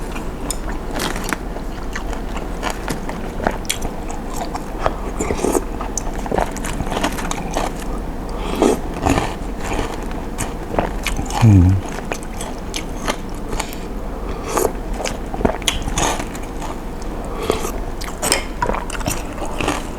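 Steady crunching and chewing close up, with repeated bites of firm, gristly beef shank tendon throughout, no talking.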